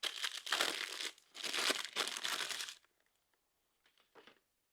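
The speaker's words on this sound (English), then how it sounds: "Let's go ahead and get that unwrapped." A knife being unwrapped from its wrapping: two long bursts of loud, close crinkling and crumpling, then a pause and a few faint, short rustles.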